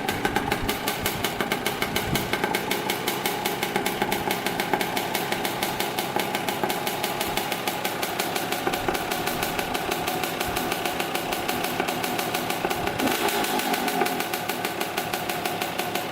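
A Kawasaki KX 65 dirt bike engine, smoking heavily, runs steadily for the whole stretch with a rapid, buzzy two-stroke rattle, close and fairly loud and unbroken, with no talking.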